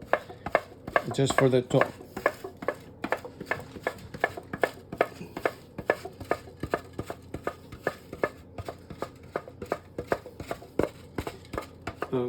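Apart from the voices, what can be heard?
grating domestic Parmigiano cheese with a grater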